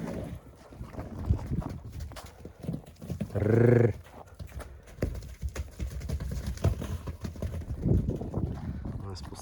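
A Novoalexandrovsk draft horse whinnies loudly for about a second amid background chatter and farmyard noise, with occasional hoof thuds.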